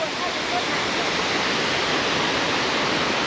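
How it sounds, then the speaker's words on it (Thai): Steady, dense roar of a large waterfall, Tad Sae Pha in southern Laos, loud and close, continuous without breaks. "บรรยากาศน้ำตกครับ"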